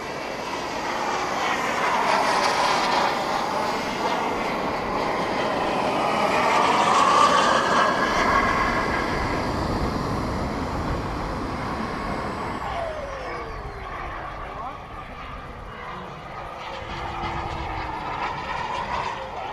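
Scale model turbine jets, a 1/7th-scale Skymaster F-4 Phantom and a Viper, flying at an airfield, with a steady, loud jet roar that swells as one passes and then fades as it pulls away, with no voices.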